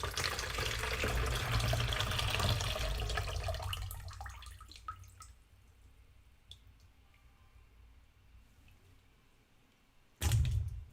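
Brine pours off fermenting radish for a quick kimchi-style ferment, a loud close splashing stream for about four seconds that tapers to quiet drips, then a brief thump near the end.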